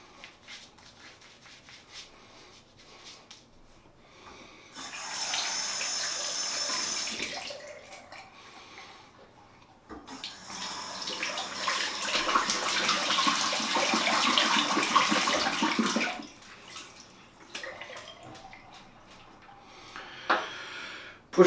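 Water runs from a tap while a shaving brush and bowl are rinsed, two broad bursts of splashing flow, the second longer, close by with quiet gaps between.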